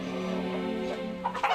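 Gamecocks cluck in a steady, close chorus, with a few sharper, higher calls breaking out near the end.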